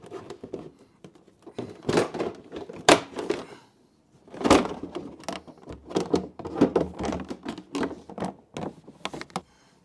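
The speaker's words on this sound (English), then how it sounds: "So now that we got all 22 screws out, let's pull off these plastics." Plastic fairing panels on a BMW GS 310 motorcycle are pried and pulled off by hand after their screws are removed, giving a run of close, irregular clicks, snaps and scraping knocks with brief pauses between bursts.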